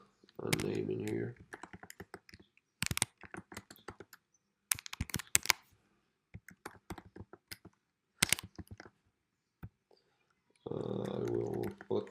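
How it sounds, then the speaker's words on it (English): A name gets typed on a computer keyboard in scattered clusters of close, sharp clicks separated by silent gaps, with a person talking briefly at the start and again at the end. "After that you will type your name in here."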